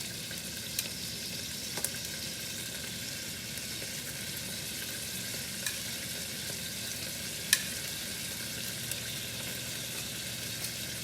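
Beef pieces sizzle and fry steadily in a hot pan, a constant crackling hiss with occasional sharper pops and a soft clink or two, with no voices.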